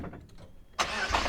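A Nissan GT-R R35 of nearly 700 horsepower, parked in the rain, starts up: a quiet moment, then a sudden loud engine catch settling into a strong, steady rumble close by.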